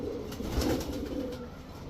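High-flyer giribaz pigeons give a short, low, soft coo up close, one brief rolling murmur.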